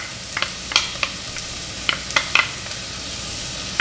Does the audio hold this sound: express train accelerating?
no